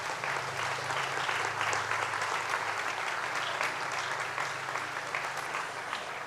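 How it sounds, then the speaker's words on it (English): Sustained crowd applause at a Great New York State Fair announcement event, a dense even wash of clapping held steadily throughout, fairly distant and uniform, with a low hum beneath. "Let's give them all a round of applause."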